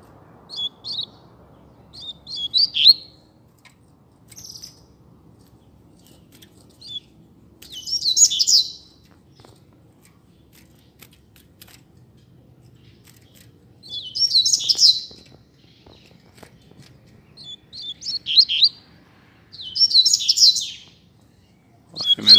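A pair of double-collared seedeaters sings outdoors on a street, short bright chirpy phrases in separate bursts spaced across a quiet background, moderately near.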